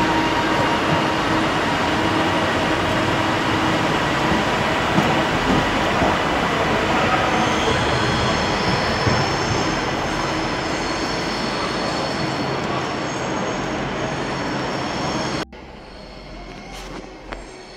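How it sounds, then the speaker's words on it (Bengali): A train rolls into a railway station in Scotland, a loud, steady rumble and rolling clatter that fills the scene for about fifteen seconds before cutting off sharply into quieter platform ambience. "এরপরই আমাদের ট্রেন আসবে। অলমোস্ট আমাদের ট্রেন আসতে টাইম হয়ে গেছে।"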